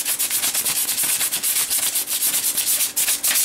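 A wooden dagger is sanded by hand with 150 grit sandpaper, a close, rhythmic rasping of quick back-and-forth strokes repeating steadily with no talking.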